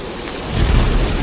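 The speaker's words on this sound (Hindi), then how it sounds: "हे भगवान, यह तो बहुत जोर की बारिश आ गई।" Heavy rain pours steadily in a cartoon storm, with a low rumble of thunder swelling about halfway through and holding loud under the downpour.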